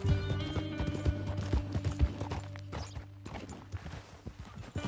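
Rapid hoofbeats clip-clop in a steady galloping rhythm over a dense, layered game soundscape with music and effects.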